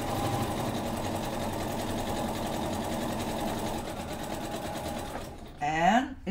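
A sewing machine runs steadily while stitching a rolled narrow hem in fabric, a continuous close whirring hum that stops near the end, followed by a short burst of other noise.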